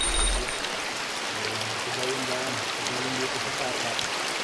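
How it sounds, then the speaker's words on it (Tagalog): Heavy rain pours around a hut on the Rutang Ama mountain trail in Montalban, Rizal, a loud dense steady roar close by, with a person talking under it. "dahil nga sa malakas ang ulan, sumilong muna kami dito sa may kubo na to"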